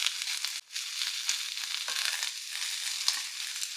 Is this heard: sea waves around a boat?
no